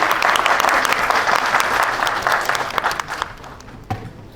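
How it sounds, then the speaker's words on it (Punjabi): Audience applause at a trailer launch event for the Punjabi film Ni Main Sass Kutni 2: dense, sustained clapping from a crowd that thins out and fades near the end, with a last few scattered claps. "ਇੱਕ ਵਾਰ ਜ਼ੋਰਦਾਰ ਤਾਲੀ ਹੋ ਜਾ"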